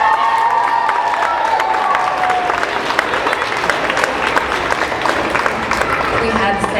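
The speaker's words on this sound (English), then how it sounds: "Big round of applause." Dense, loud applause with cheering and whoops fills a crowded room at a swim club's year-end awards night, steady and continuous throughout, with voices shouting over the clapping.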